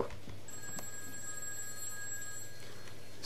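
In the horror video game Those Who Remain, a telephone bell rings with a steady electronic trill over a low ambient hum, moderately loud and heard without speech.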